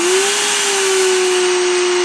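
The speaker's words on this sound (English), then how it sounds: "So let's turn the vacuum on." A vacuum is switched on to pressurize a leaking car headlight for a leak test, producing a loud, steady, continuous whine with a constant pitch and no voices over it.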